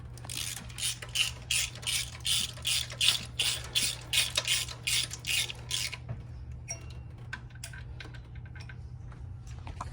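A ratchet tightening the plenum bolts on a Corvette ZR1 LT5 engine clicks in rapid bursts for several seconds, close and crisp, then gives way to quieter scattered taps and handling noises.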